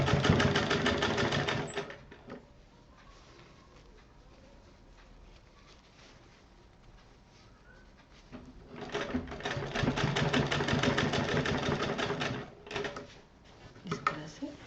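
A sewing machine whirs in fast bursts, stitching a pillow cover, with a quieter pause in the middle while a person talks.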